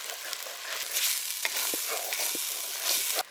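Chilli powder being stirred into small prawns in a hot pan, with steady close sizzling and frying hiss broken by a few soft scraping strokes of the spoon.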